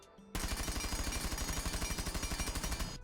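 Automatic gunfire from a weapon fitted with a muzzle brake in the video game Rainbow Six Siege: after a brief quiet start, a loud, steady stream of rapid shots runs for over two seconds, then stops.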